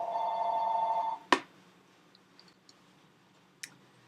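A telephone rings with a steady electronic trill that cuts off after about a second, followed by a sharp click and a few faint ticks and clicks in a quiet room.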